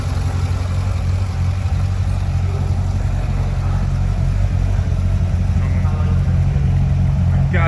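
A Corvette Z06 with an LS7 engine running at a steady, smooth idle, a loud continuous low rumble close by with no speech heard.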